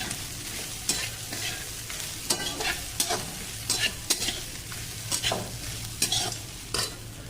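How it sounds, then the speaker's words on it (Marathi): Kanda poha with onion is stir-fried in a pan over a low flame, with a soft, continuous sizzle broken by repeated scraping and stirring strokes at an irregular rhythm, close up and with no voices. "पोहे नेहमी मंद गॅसवरती परतावेत"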